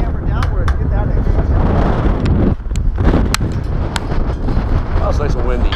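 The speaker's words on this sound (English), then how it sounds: "It's nice and windy." Steady wind roars and buffets the microphone throughout during a sky jump in Las Vegas, a loud continuous rush with occasional brief gusts and dips.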